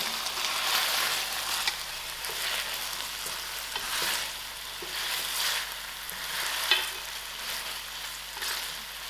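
Lamb chops fry steadily in a pan, a continuous loud crackling sizzle with gentle swells and a few brief clinks, with no voices.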